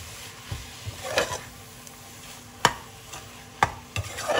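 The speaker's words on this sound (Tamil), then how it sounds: "இது கொஞ்ச நேரம் ஃப்ரை ஆகட்டும்." Prawn biryani masala with mint and coriander fries in a pan, a soft steady sizzle broken by occasional scraping clicks of a stirring spoon, close and fairly quiet with no voices.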